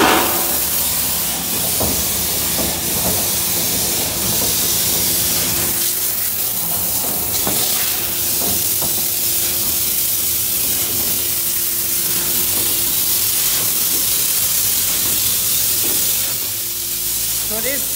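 A Sormac USM S60 onion peeler running as onions are peeled, giving a steady loud hissing, spraying whir with a faint mechanical hum and scattered knocks and rattles throughout.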